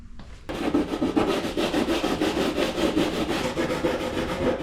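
Sandpaper rubbed back and forth on a part of an Aprilia RS660 motorcycle during a track build, making steady, even rasping strokes, close and loud, with no talking.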